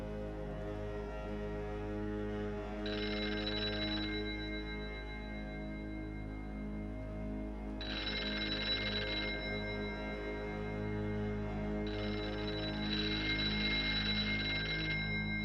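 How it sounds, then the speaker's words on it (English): Telephone ringing as a sound effect for anonymous phone calls, three bursts of bright ringing spaced several seconds apart over a steady low drone, fairly faint. "More anonymous phone calls would flood into the homes of sympathetic supporters of Paul Robeson and the summer colonists."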